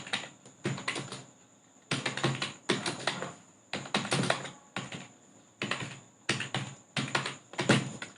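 Fast typing on a computer keyboard while writing webpage code, coming in rapid clattering bursts separated by short pauses, close and fairly clear.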